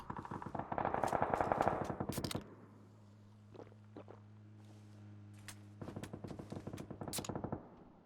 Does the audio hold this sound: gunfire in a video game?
yes